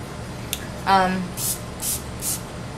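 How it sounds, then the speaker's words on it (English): Three short hissing sprays of rose water from a pump mist bottle, close and evenly spaced, following a brief spoken syllable. "I'll just spray some rose water, which I'm about to do right now"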